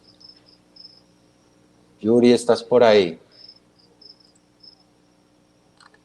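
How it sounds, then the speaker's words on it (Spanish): Faint crickets chirp in short repeated pulses throughout, while a person briefly speaks loudly in the middle. "Los grillos siempre acompañándome en esta tarde."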